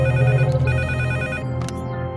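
A telephone rings during a call to a police SP, a repeating electronic ringtone pattern heard up close and fairly loud, playing alone without voices for about two seconds.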